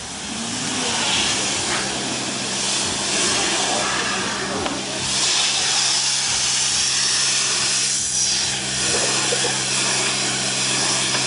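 Steady loud hiss of a pressure-washer spray on a Mazda RX-8 runs throughout, with occasional faint voices underneath.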